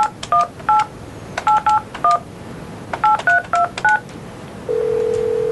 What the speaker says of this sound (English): first you push this button, then you dial your number